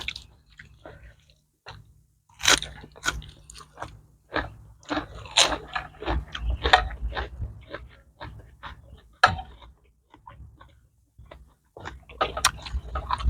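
Close, crisp bites and crunchy chewing of a spicy Thai mushroom salad made with bitter bolete (eucalyptus) mushrooms and assorted vegetables, repeating in irregular bursts with brief pauses between mouthfuls.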